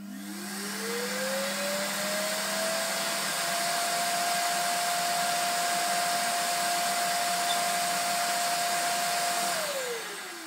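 The suction motor of an iRobot Roomba Combo 10 Max base station spins up with a rising whine, holds a steady, fairly faint whirring hum for several seconds, then winds down, with no talking.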